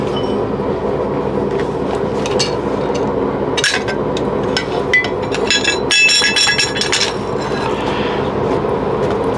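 A hammer strikes a punch through steel on a small anvil while a spatula is made, giving a few sharp metallic blows over a steady background hum.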